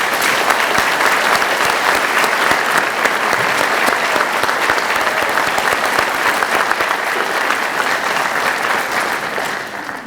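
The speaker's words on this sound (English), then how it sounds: "Let's have one final round of applause for the 2023 Ivy Day royalty." Sustained crowd applause at an outdoor Ivy Day 2023 college ceremony honoring the royalty, steady and loud throughout with dense overlapping claps, fading slightly at the end.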